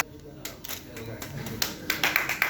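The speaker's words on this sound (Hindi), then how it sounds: "जोरदार तालियां एक बार" Scattered claps from a crowd at a large gathering of lawyers in Delhi start sparse and grow into louder, quicker clapping toward the end, with voices murmuring underneath.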